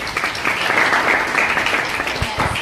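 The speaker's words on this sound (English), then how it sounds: "Can you please clap?" A student audience at a leadership training event breaks into steady group clapping that holds at a fairly even level and tapers slightly near the end. No one speaks over it.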